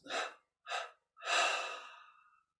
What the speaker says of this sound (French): on prend une inspiration profonde. On expire en 3 fois.